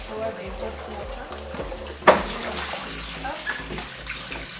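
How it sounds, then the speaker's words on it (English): Hot water poured over bottles in a kitchen to sterilize them, a soft steady splashing with one sharp clink near the middle and a faint voice in the background. "So when I pour the hot water"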